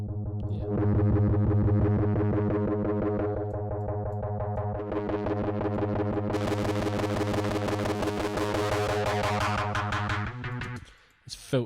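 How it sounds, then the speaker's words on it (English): Overdriven electric guitar with a filtered, distorted tone, a sustained chord ringing for several seconds, its brightness shifting partway through before it cuts off. "I would have used a filter on the overdrive."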